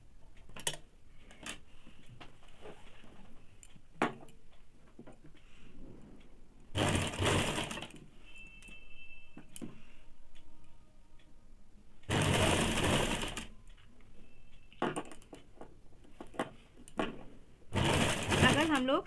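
A sewing machine stitches a saree-matching blouse in short bursts, three loud whirring runs separated by quieter handling clicks and someone talking in between.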